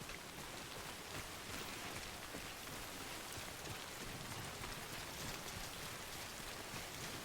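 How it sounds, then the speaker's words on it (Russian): Steady rain in the Death Stranding video game, a dense even hiss of falling drops that runs unbroken and fairly loud throughout, with no voices. "Везде дожди"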